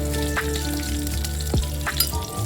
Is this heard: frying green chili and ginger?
yes